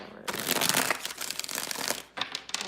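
Tarot cards are shuffled by hand in quiet, papery riffling bursts: one long bout, a short pause, then another quick shuffle.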